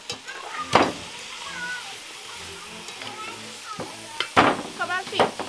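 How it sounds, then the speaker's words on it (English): Crab curry sizzles in a pan for a Trinidadian crab and dumplings dish in coconut sauce, a continuous frying hiss with sharp stirring clatters and brief crackling bursts up close. "when you hear that sizzle, make you feel like, boy, you're doing something right"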